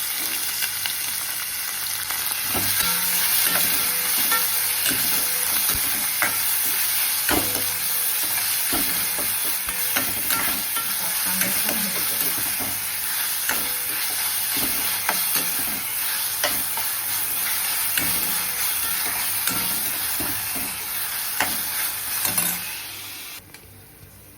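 Finely chopped onion fries in oil in a pan for a pumpkin vegetable dish, hissing and sizzling steadily and loudly. A spoon stirs through it with repeated scraping knocks, and the sizzle cuts off near the end.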